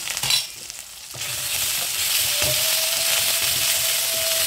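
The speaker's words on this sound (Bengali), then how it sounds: "এবার এটাকে ভালো করে আমি কষিয়ে নেব।" Fried snakehead fish being sautéed in a pan with ground ginger, cumin paste, turmeric, salt and chilli powder, a brief scrape and stir, then a loud steady sizzle that swells and holds close.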